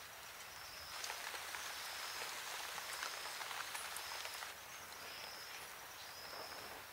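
Steady rain falls on foliage in a Brazilian coastal forest, a soft, even hiss with scattered drips and faint insect chirps in the background.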